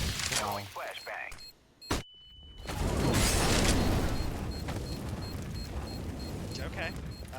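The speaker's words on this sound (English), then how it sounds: "Throwing flashbang." A flashbang grenade thrown in a tactical shooter plays out as a sharp burst, then a brief near-silent gap and a high ringing tone, followed by a long loud hiss that slowly fades, with a voice talking around it.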